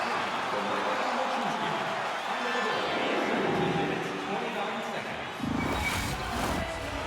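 Arena crowd noise in the hockey video game NHL 26 during an Avalanche at Los Angeles game, a continuous roaring murmur of spectators that swells near the end, running under steady commentary.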